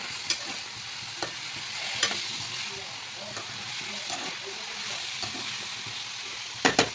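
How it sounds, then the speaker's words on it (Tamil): Banana flower stir-fry with salt being stirred in a pan, a soft ongoing sizzle broken by repeated spatula scrapes and taps, with a couple of sharper knocks at the end and no talking. "உப்பு போட்டு நல்லா கிளறி விடுங்க"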